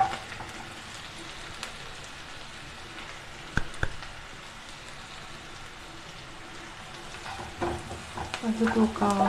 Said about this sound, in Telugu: ఇవి గోల్డెన్ బ్రౌన్ వచ్చే వరకు ఫ్రై చేద్దామండి.